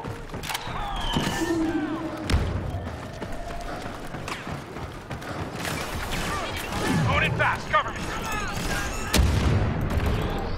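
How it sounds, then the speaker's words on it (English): Grenades bursting in Star Wars Battlefront II, a cluster of booms and gunfire crackling through the game's battle noise while a player talks over it. "There was a lot of uh, grenades in there."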